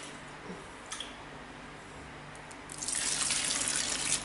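Water is poured into a homemade laundry gel mixture, starting faintly and then rising into a steady, close splashing stream for the final second or so.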